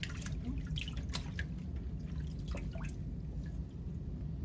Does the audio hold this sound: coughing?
no